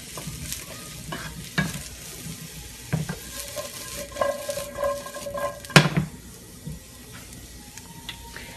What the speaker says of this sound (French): Comme ça, les champignons, ils vont bien rôtir.